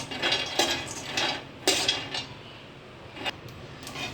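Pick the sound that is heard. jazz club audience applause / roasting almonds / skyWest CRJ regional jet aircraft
roasting almonds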